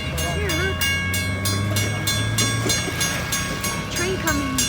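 A train approaching a railroad crossing in Mexico, with a steady low rumble under evenly repeating crossing bell strikes and sustained tonal ringing. A voice speaks briefly and faint chirps drift through.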